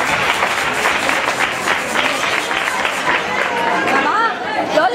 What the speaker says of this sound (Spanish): con otro aplauso, por favor